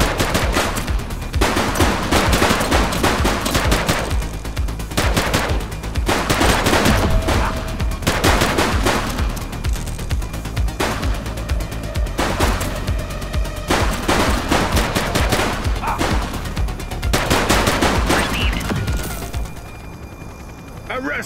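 Sustained automatic gunfire in a police shootout from the video game The Precinct, loud rapid bursts of shots repeating throughout with brief gaps, the volume easing slightly near the end.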